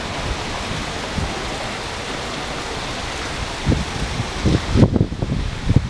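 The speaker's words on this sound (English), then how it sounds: "Beautiful weather," Breezy wind at a beach resort in Cancun rushes as a broad, steady noise, gusting louder near the end with low buffeting thumps as it hits the microphone.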